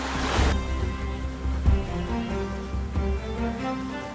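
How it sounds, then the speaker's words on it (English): A sailboat runs through waves in about 20 knots of wind off the Cornish coast, with a rushing wash of water and gusty wind noise and a low rumble that swells at intervals. "we do have 20 knots of wind pushing us along at a respectful 6 knots"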